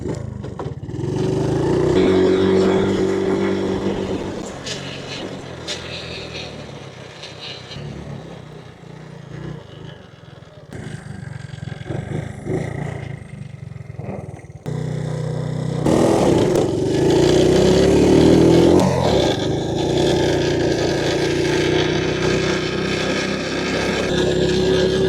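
Honda ATV engine running and revving hard through a wheelie, a loud close motor note that drops off then surges again with rising throttle over outdoor clatter.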